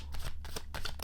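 A deck of tarot cards is shuffled in quick, rustling riffles: several short, close flicks of cards brushing together, with no talking.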